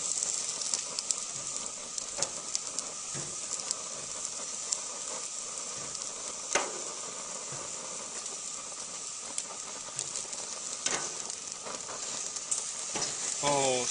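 Food sizzles and fries steadily on an outdoor grill on a chilly early-March day, a dense continuous hiss with occasional pops and crackles, close and fairly loud throughout.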